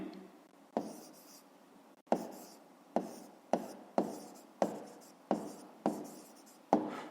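Pen strokes on notebook paper, nine short scratchy bursts in an uneven rhythm, close and fairly clear, with quiet gaps between and no talking.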